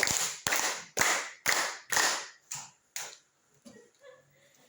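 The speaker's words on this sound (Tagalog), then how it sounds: "Bigyan natin ng 5 palakpak ang pangalawang grupo." A class group claps in unison at an even pace, crisp sharp claps close by, with a few softer, ragged claps trailing off at the end.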